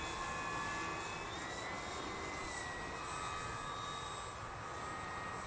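A 1.7 meter FMS Super Cub RC model plane drones overhead at a distance, its motor a steady whine that rises and falls gently as the plane flies past.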